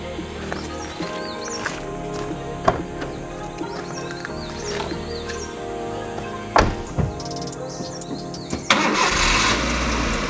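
A Maruti Suzuki Eeco van engine turns over and catches near the end, its steady running hum rising after a few clicks and clunks.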